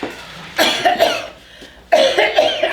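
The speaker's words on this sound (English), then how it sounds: "You coughed." Two loud, close coughing bursts from one person, each a quick cluster of harsh hacks, with a short pause between them during a stage scene.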